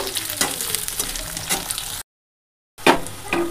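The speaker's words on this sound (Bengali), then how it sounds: "এর মধ্যে দিয়ে দেবো ক্যাপসিকাম আর দিয়ে দেবো পেঁয়াজ। এগুলো একটু তেলের সঙ্গে নেড়ে চেড়ে নেব।" Soya chunks fry in hot oil with capsicum and onion while being stirred, giving a steady close sizzle with scraping strokes. The sound breaks off in a brief silent gap, then returns.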